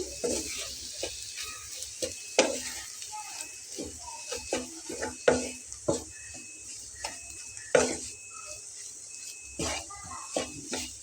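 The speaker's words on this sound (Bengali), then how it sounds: "তারপর এটাকে খুব ভালোভাবে একসঙ্গে একটু মিশিয়ে নেড়ে চেড়ে নিতে হবে" Spatula or spoon scrapes and clinks against a pan as food is stirred over a low flame, with a soft sizzle underneath and irregular taps throughout; a voice speaks at times.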